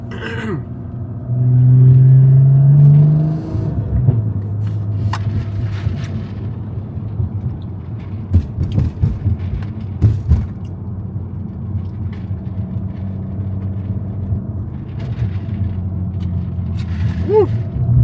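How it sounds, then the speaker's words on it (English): Heavy road traffic rumbles past a 500hp BMW, heard from inside the car, with a loud low engine surge early on, then a steady drone and scattered thumps and passing vehicles. "There's just nothing but traffic out here."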